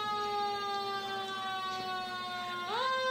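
Savannah Fire Department truck siren at a Martin Luther King Jr. Day parade, a loud sustained wail slowly falling in pitch and then sharply rising again near the end, with no talking.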